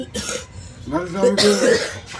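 A single close cough, followed by a short throat sound, with a faint clink in the background.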